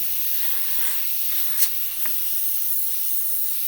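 An airbrush sprays paint for a toxic green true fire design, giving a steady, loud, continuous airy hiss with a brief sharper puff partway through and no talk.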